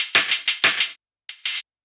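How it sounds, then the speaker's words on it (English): A dry hi-hat drum track with no vocoder, auto pan or EQ gives a handful of crisp, hissy hits in a quick pattern, a short gap, then two more strikes, close and alone. "So this is my hi-hat track."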